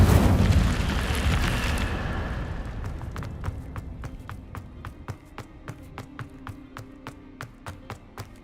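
Incendio fire spell cast in the video game Hogwarts Legacy, a loud whooshing burst of flame that slowly dies away, followed by a steady run of sharp, evenly spaced footsteps.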